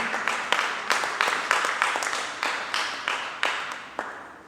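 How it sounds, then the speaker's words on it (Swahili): A church congregation claps for Pastor Dan, an even, rhythmic round of applause with regular beats, moderately loud and steady throughout, with no voices heard. "Tukaweze kumpigia makofi"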